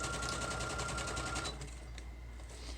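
A domestic sewing machine stitches around the edge of a fabric millinery master board in a steady rapid rattle for about a second and a half, then cuts to a quieter hum with faint handling sounds.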